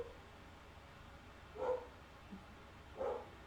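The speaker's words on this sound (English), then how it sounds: "I don't know what the dog barking for." A dog barks downstairs, two muffled, distant bursts a little over a second apart against a steady indoor background hum, with no one talking.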